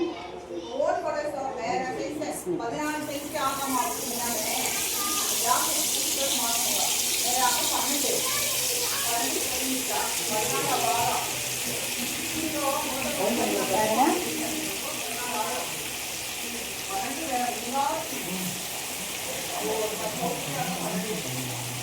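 Fish frying in hot oil gives a steady bright sizzle that starts about three seconds in and continues under someone speaking Tamil throughout.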